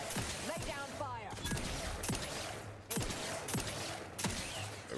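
Turret gunfire in The Outer Worlds 2 video game crackles in bursts of rapid shots, separated by short pauses and mixed with other game sounds.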